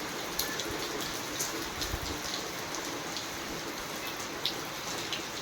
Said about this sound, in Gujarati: ઘડીક વરસાદ આવે એટલે પાણી થઈ જાય વહેતા